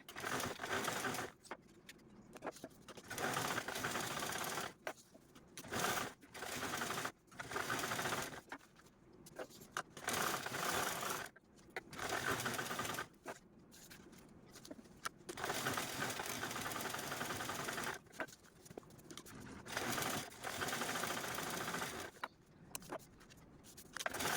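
A sewing machine quilting layered fabric for a small purse runs in long fast stitching bursts, its close mechanical whir repeatedly stopping and starting with short pauses in between.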